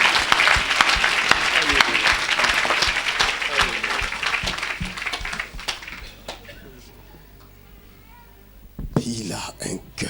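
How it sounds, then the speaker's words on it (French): An audience at an evangelistic Christian gathering applauds and cheers in a loud, dense burst that lasts several seconds and then fades out, with speech following afterward. "Oh, tu pouvais acclamer."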